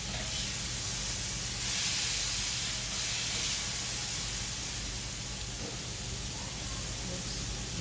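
Bourbon ignites in a pan of cooking steak, giving a steady, loud hissing whoosh that swells and then settles into a continuous roar of flame.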